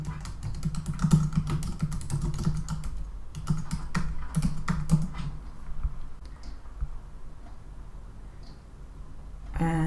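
Rapid keystrokes clatter on a computer keyboard as a plugin name is typed into a website admin page; dense, steady clicking for several seconds, then quieter pauses with a few isolated taps.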